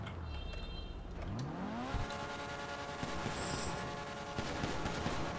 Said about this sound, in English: let me show you the sound of the engine